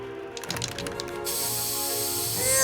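Hairspray bursts from a can in an animated movie scene, a sudden loud continuous hiss that starts after a brief rattling moment and carries on steadily to the end.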